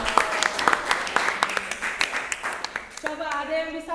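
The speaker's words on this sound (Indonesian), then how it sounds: "Beri tepuk tangan dong." Classroom applause after a group discussion on apple oxidation: a few seconds of steady, moderate clapping from a small group, with a voice speaking over the end.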